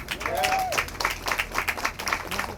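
Audience at a community walk against domestic violence program giving a short round of applause, close, rhythmic clapping with uneven peaks and faint voices beneath.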